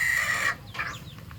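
A chicken on a farm with goats gives a short cluck and a few soft clucking calls, close and moderately loud over a low background hum.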